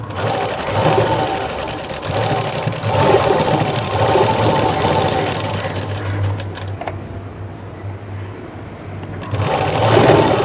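A sewing machine top-stitches a blouse with a steady, close, rapid whirring run that drops away briefly near the end before starting again, and a voice speaks faintly under the stitching.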